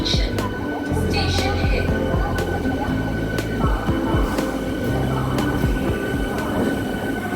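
A train at Kharagpur Junction station rumbles and clanks steadily through a busy platform, with metallic knocks, a faint squeal and distant voices mixed into the station din.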